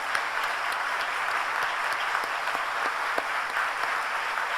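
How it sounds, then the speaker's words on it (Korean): A church congregation applauds steadily during an anniversary Sunday worship service, a sustained even wash of many hands clapping at moderate distance, with no talk over it. "사랑하는 원장님께도 감사합니다라고 박수 보내드립니다"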